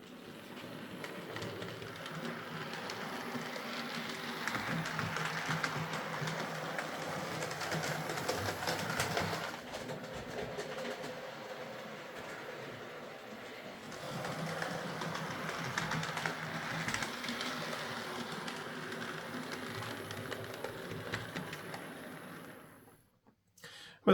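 A Hornby Princess Royal Class 8P "Princess Elizabeth" model locomotive running steadily along its track, giving a continuous whirring motor drone and rattle throughout, fairly close, with a brief dip in the middle before it stops at the end.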